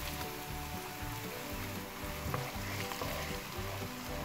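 Cherry tomatoes with their sauce sizzle steadily in a frying pan with a close, even crackle and a few stirring clatters, with no one talking.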